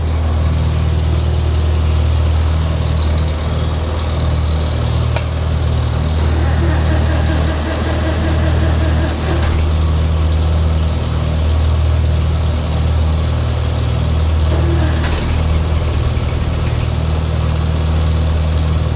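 A tractor engine idling steadily after a cold start, a loud, constant low rumble with a vibrating drone and no pauses.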